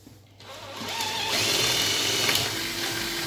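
A power drill with a 7 mm bit bores slowly into a furniture panel to make a hidden-screw anchor, a close, rising whir that holds steady for a few seconds.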